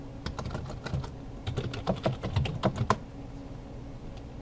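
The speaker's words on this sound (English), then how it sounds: "let's type in our username of root, I believe, and then our password" Keys clatter on a computer keyboard while a username and password are typed in, a quick irregular run of close, crisp clicks with short pauses and no voices.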